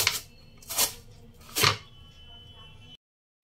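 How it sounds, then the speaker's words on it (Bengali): Raw potatoes scraped against a kitchen grater in three separate rasping strokes, each a short, close, bright burst with quiet pauses between, before the sound cuts off. "অল্প অল্প করে গ্রেট করতে হবে, আর জলের মধ্যে দিয়ে দিতে হবে সঙ্গে সঙ্গে।"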